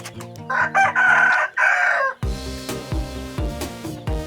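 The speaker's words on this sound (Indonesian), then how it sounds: "Wah ini ayam jago. Ini biasa diadu nih." A fighting rooster crows loudly and close, one drawn-out cock-a-doodle-doo, followed by dense music with a steady beat.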